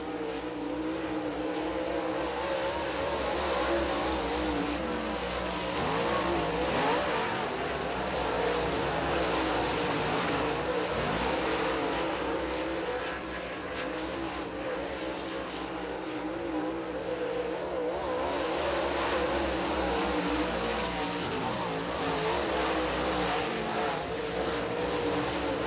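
Super Late Model race cars roar around the Thunder Mountain Speedway oval, a continuous loud engine drone that swells and fades as the pack passes, with a commentator faintly audible underneath.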